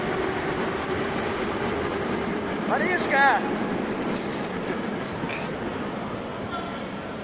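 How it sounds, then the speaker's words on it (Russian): A metro train rumbles steadily past with a continuous low roar at a Novosibirsk station, and a person shouts once briefly partway through. "А ну остановите поезд!"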